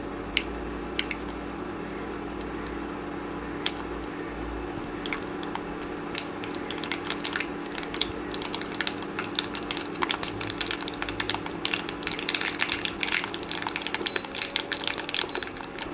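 Mustard seeds and urad dal crackle and spit in hot oil in a pan while tempering for coriander thuvaiyal, a steady sizzle dotted with sharp pops that grow denser toward the end, close and fairly quiet, with no talk.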